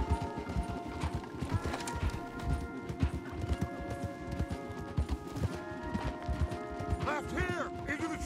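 Several horses galloping hard in Red Dead Redemption 2, a dense, loud drumming of hooves at close range with brief whinnies and snorts near the end.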